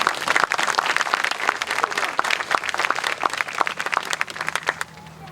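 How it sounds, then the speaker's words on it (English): A room full of people gives elected officials a round of applause: dense, steady clapping with distinct sharp claps throughout, near and loud, thinning and ending toward the close. "let us give you a round of applause"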